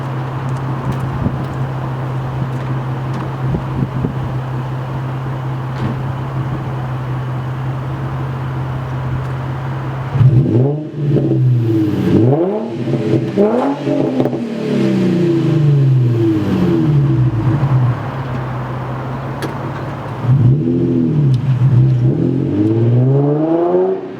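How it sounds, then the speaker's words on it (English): A lowered 2005 Infiniti G35 coupe with a muffler delete idles with a steady, droning exhaust hum, then revs sharply several times in rising and falling sweeps before pulling away loudly, with a final burst of revving near the end. "I'll give it a little bit of revs and then take off from there."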